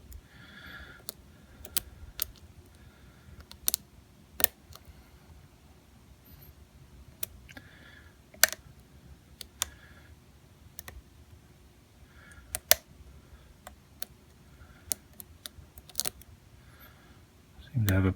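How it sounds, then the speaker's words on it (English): Small, sharp clicks come from a lock pick working inside a Basi lock, scattered irregularly over a quiet, low hum, close and fairly faint. "Getting some clicks out of there already."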